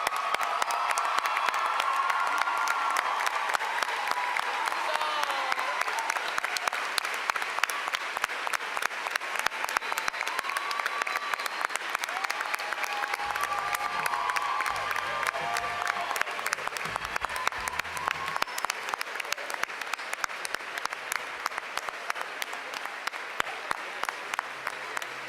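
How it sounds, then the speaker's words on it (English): Sustained audience applause at a closing ceremony, a standing crowd clapping loudly and continuously for the full length, with murmured voices and cheers mixed into the steady roar. "give this group a round of applause"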